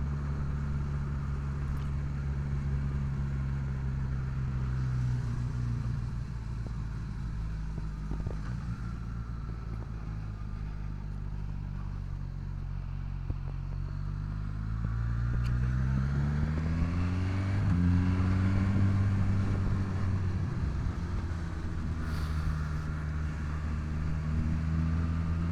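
A 2023 Suzuki Katana motorcycle, new and being run in, drones steadily while ridden, its engine tone gliding up and down through the gears with a rise in pitch near the end, heard close against light wind.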